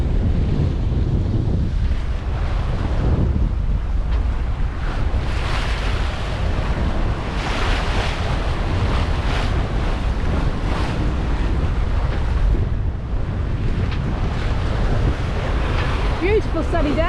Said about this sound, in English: The sea's a little bit up because of the wind,